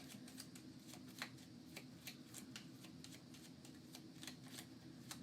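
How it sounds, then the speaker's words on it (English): Threat cards from the Marvel United board game being shuffled: a steady run of crisp riffling clicks and card slaps, fairly quiet and close, with no talking. "We'll shuffle up these threat cards."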